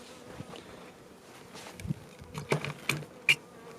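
Bees buzzing faintly around a weak hive during an inspection, with a few louder passes of single insects close by and soft rustling and frame handling in between.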